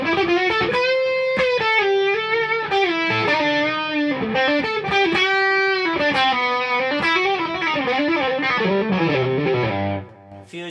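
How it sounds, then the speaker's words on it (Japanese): An electric guitar on a Fender runs through a BB Preamp overdrive pedal at maximum gain, giving a thick but clean-edged fusion crunch as a continuous melodic phrase plays for about ten seconds before cutting off. "BB プリアンプマックスにすればかなり歪みますので、"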